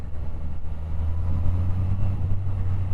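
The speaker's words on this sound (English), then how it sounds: "Out of stock exhaust, not super loud, but you get that whine." Yamaha XJR1300 motorcycle with an aftermarket exhaust hums steadily at low to moderate volume, a continuous engine drone with faint whine and wind noise, no voices.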